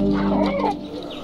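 A naked-neck desi rooster clucks close by, a short rising burst of clucks that fades into quiet farmyard background.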